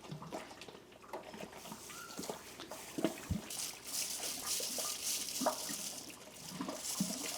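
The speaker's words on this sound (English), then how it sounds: "I'm mashing in with 6 gallons of water." Water pouring and splashing into a mash of grain for brewing a New England IPA, uneven gurgles and trickles with a few clunks, moderately quiet and close.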